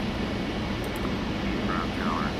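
A Concorde jet under full afterburner begins its takeoff roll in the X-Plane flight simulator, giving a loud continuous broadband engine roar that holds steady throughout.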